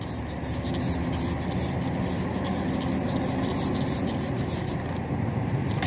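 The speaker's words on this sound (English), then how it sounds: "I'm going to spray it again" A series of quick squirts of Meguiar's Mirror Bright wheel cleaner from a spray bottle hisses in a steady rhythm, about a dozen pumps in a row, close up over a constant background.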